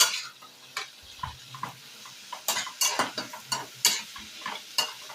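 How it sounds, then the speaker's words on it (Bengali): A paste of capsicum, tomato, ginger and onion being sautéed, with a soft sizzle under frequent close-up clinks and scrapes of a spatula against the pan, quickening toward the end. "এই ক্যাপসিকাম, টমেটো আর আদা বাটা, পেঁয়াজ বাটা দিয়ে একসঙ্গে আবারও মিনিটখানেক কষিয়ে নেব"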